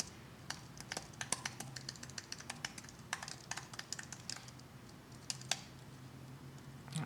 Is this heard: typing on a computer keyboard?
yes